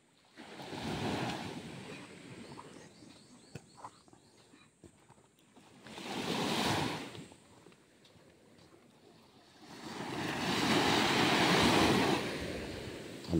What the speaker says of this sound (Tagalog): Guys, ang dagat.